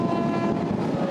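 A passenger train on a tourist railway trip between São Paulo and Jundiaí rumbles steadily with a dense, continuous roar. It sounds close and loud, with no voices.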